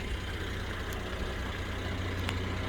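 A 2015 Mercedes GLK350 4matic with a direct injection engine running at idle, a steady low hum with a faint ticking texture, heard close and even throughout.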